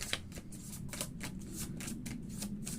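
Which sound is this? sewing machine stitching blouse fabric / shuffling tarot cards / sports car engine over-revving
shuffling tarot cards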